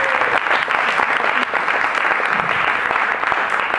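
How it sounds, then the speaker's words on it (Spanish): Sustained audience applause at the close of a Chernobyl course session, an even, busy patter of many hands clapping throughout with no voices on top. "Aplausos para Juan Luis,"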